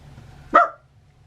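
A single short, sharp dog bark, close and fairly loud, in an otherwise quiet indoor room.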